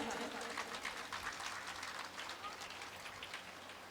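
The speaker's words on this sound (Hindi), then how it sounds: "तो जोरदार तालियों से उनका स्वागत करें" Faint, dense clapping from a crowd at a Shrimad Devi Bhagwat Katha religious gathering, a steady patter of many hands heard at a distance and fading slightly toward the end.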